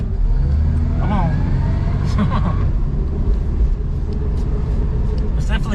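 A 1967 Dodge Dart on a test drive, its engine giving a loud, continuous low rumble from inside the car with some faint squeaks and rattles, while people talk over it.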